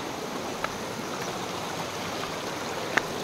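A flowing mountain stream in the hills of Syangja gives a steady, close wash of rushing water with no voices, broken only by a couple of faint clicks.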